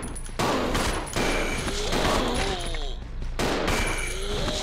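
Sustained bursts of rapid gunfire in Resident Evil 0 HD Remaster, loud and dense, with several overlapping volleys separated by short breaks.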